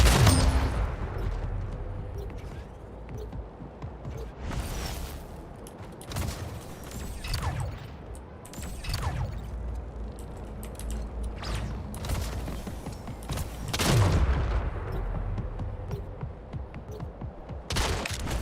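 Rapid gunfire in the arena shooter Splitgate, with repeated sharp bursts and volleys spread across the clip, a loud cluster near the middle and another toward the end over a steady game-ambience bed.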